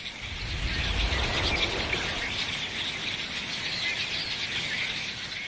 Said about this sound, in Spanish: Los reflejos de estos tordos alirrojos son tan veloces que, cuando un pájaro gira, todos los demás reaccionan al instante y la bandada se mueve al unísono.